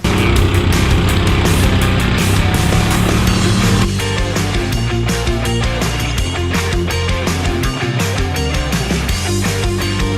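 A car drives laps around an outdoor course while dragging a candle behind it, its engine droning loud and constant with a rough, steady roar throughout.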